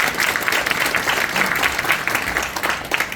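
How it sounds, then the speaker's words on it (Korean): Warm audience applause for a National Assembly member at a Christian Thanksgiving prayer breakfast in a meeting room of the National Assembly members' office building, dense steady clapping that carries throughout at close range. "여러분 뜨거운 박수 부탁드립니다."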